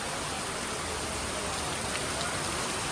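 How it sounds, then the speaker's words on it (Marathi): Heavy rain pours down at Jotiba hill temple in Kolhapur, a dense, constant wash of drumming and hissing that stays even and unbroken from start to finish. "खूपच जोराचा पाऊस आहे"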